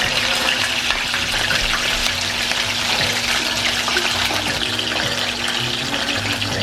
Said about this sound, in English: Let it fry for 5 minutes on each side.